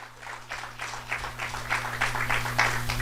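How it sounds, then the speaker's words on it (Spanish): A church congregation claps in loose, uneven bursts that grow gradually louder, with a steady low electrical hum running underneath. "denle un fuerte aplauso a la presencia de Dios"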